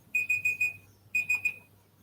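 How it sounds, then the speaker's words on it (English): A kitchen-style timer alarm rings in two quick bursts of bright repeated beeps, four then three, loud and close with a short gap between, alone without talk. "So that's my timer."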